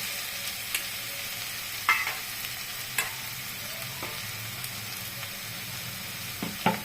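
Lentil dumplings frying and being stirred in a pan for a pointed gourd curry, with a steady soft sizzle and occasional sharp clicks of a spatula, close and alone without talk.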